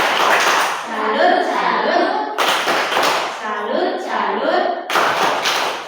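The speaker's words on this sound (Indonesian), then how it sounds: "Kita tepuk salut untuk kita semua." A primary school class chants together while clapping in rhythmic bursts of claps, pausing briefly between rounds, with children's and a teacher's voices mixed in.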